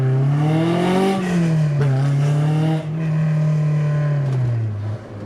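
Honda S2000 fitted with an F22 engine accelerating hard, a loud close engine note rising and falling through revs over several seconds, with no talk.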